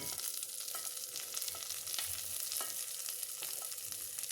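Grated beetroot frying with onion and curry leaves hisses softly in a pan, a steady low sizzle punctuated by periodic scrapes and taps of a stirring spoon.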